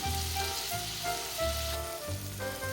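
Sliced tomatoes with turmeric and salt sizzling steadily on a high flame, a continuous close frying hiss with low background music and no talk.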